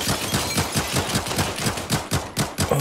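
Automatic gunfire in the tactical shooter game Caliber: rapid, loud bursts of repeated shots in a fast steady rhythm, close and sustained, with no talk.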